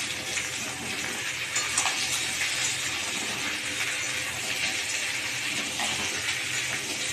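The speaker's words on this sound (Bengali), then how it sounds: "দিয়ে একটু ভাজবো" Pumpkin and potato fry in a pan in a home kitchen, giving a continuous, even hissing sizzle at moderate volume with no talking over it.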